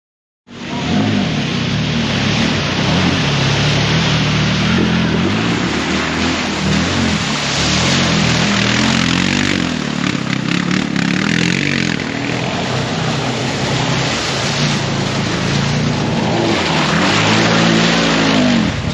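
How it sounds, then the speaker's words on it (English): A loud engine roars continuously as a 2022 CF off-road side-by-side drives through a creek, revving up and down with rough rumbling throughout. "Going for a little creek ride here, guys."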